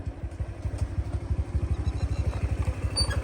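Motorcycle engine idling close by at a cricket tournament ground in Hoshiarpur, a steady rapid low thumping pulse that runs the whole time with no voices.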